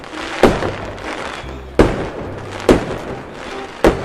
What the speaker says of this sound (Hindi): बहुत बड़ा धमाका होता है।